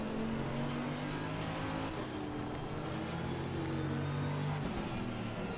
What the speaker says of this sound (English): Oh, it's the V12. V12 Aston.